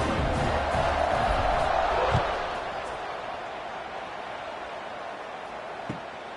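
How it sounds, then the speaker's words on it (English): Football stadium crowd buzzing after a score and a good extra point, a loud steady roar with a few louder swells at first, easing slightly and carrying on as a broad wash of noise. "this crowd is buzzing after that last score."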